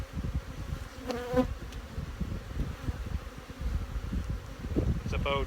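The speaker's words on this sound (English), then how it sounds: "It's about 6 degrees right now, so the bees are a little bit, angry." Honey bees buzz around an open hive during a spring inspection in cool weather, a dense, agitated drone close by with brief rustles and faint handling noises.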